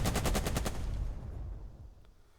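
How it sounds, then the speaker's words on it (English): Heavy machine gun burst in the war game Burden of Command, a rapid string of about eight loud shots followed by a rumbling decaying echo, alone with no voices. "let's bolster and then shoot this heavy MG."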